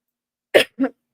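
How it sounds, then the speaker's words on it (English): Two quick, loud coughs hit right into a microphone, the second slightly softer, separated by a short gap of silence. "I'm sorry for coughing in the mic"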